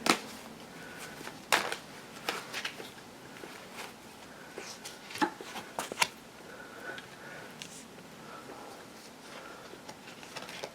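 A tarot card deck shuffled and picked by hand, with repeated sharp riffling flutters and soft card slaps at an irregular pace, close and fairly quiet in a still room.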